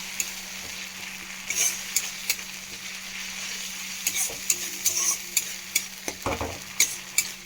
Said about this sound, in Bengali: এইভাবে ভালোভাবে মশলাটা একটু কষিয়ে নিচ্ছি